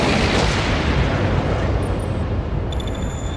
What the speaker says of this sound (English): The missiles have impacted on the solar flare.